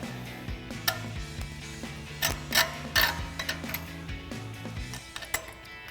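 Metal brake caliper pins slide out of the caliper on a Toyota 4Runner during brake removal, giving a run of light metallic clicks and scrapes, with a few sharper knocks and rattles standing out nearby.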